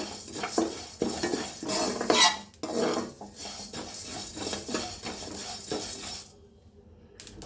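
A spoon scrapes and stirs cumin seeds and curry leaves roasting in a pan for curry leaf powder, making repeated rough strokes and clinks at close range that grow quieter near the end.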